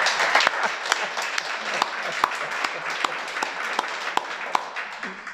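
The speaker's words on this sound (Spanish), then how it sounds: "Y si le damos un aplauso al Creador." Audience applause for the Creator during a Torah teaching, a steady wash of clapping with distinct individual claps standing out, moderately loud and continuous throughout with no talking over it.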